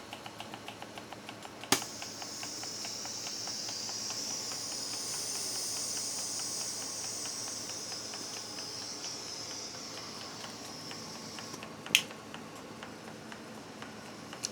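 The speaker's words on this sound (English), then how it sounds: "there is our steam engine just sitting there ticking away just as nice could be" A PM Research model steam engine runs slowly, ticking softly and steadily in a regular rhythm with a faint hiss, and two sharper clicks stand out along the way.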